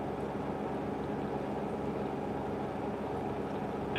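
A Hisense WFQP9014EVM washing machine spins at 1400 RPM while washing a 13.5 tog duvet, giving a faint, steady mechanical whir and hum that carries on without change.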